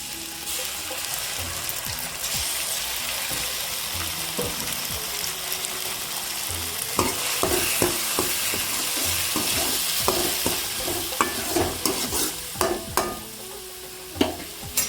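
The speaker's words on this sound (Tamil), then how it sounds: "வெங்காயம் வதங்கிடுச்சு" Onions fry and get stirred in a pan for coriander rice, with a continuous close sizzle and scraping that turns into more frequent clinks and taps of the utensil in the second half.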